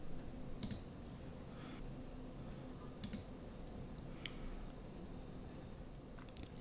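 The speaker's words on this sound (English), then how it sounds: "when I click Login and enter my credentials" Faint, sparse clicks and short keyboard taps while entering login credentials at a computer, scattered over a quiet room hum with a slightly louder click at the end.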